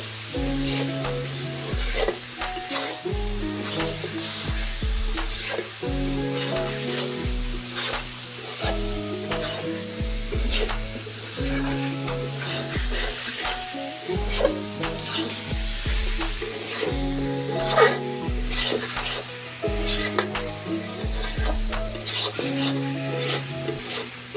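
Beef stir-fried in a pot for kala bhuna, a loud steady sizzle with repeated scraping spatula strokes against the metal and rhythmic clanks, alongside a background tune with a repeating melody.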